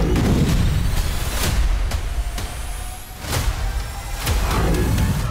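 A series of muffled booms and cracks from rockets striking Haifa, caught on CCTV, sounds at irregular intervals over a continuous rumbling din, each blast brief and far off.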